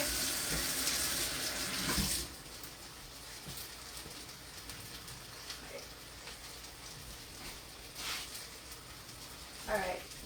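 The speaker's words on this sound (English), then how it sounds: "I'm just going to rinse my hands real quick." Water runs from a kitchen tap as hands are rinsed, a steady hiss strongest in the first two seconds and then softer, with faint kitchen clatter around it.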